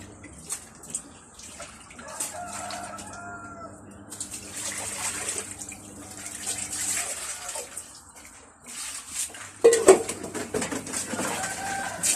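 Dishes and bowls being washed under running water in a rural home kitchen, with a steady stream of water, intermittent clinks and a louder splash near the end, heard close up with faint talk in the background.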